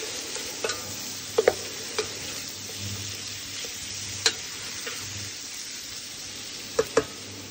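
Food being stirred in a pan gives a low, gentle frying hiss, with sharp clicks and taps of the utensil against the pan every second or so.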